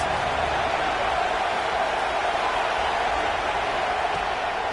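A college football stadium crowd roars in a dense, continuous wash of noise as fans get behind the defense on a big third down, with no clear break or peak.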